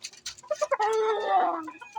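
Chickens clucking up close, a burst of short clucks rising into a longer squawking cackle, with softer clucks trailing off.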